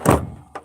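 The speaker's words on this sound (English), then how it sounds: "Yeah, I'm locking the door," A door being locked gives a solid close thunk, followed half a second later by a shorter, sharper click, loud and with no talking over it.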